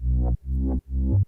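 A speed garage warp bass synth patch built in Serum sounds three thick, deep, buzzing notes, each swelling and warping in tone before stopping short, with brief gaps between them.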